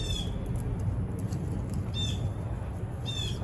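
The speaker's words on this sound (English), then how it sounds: "That's a fussy old bird. You hear that?" A bird squawks a few times in short harsh bursts over steady low rumbling background noise.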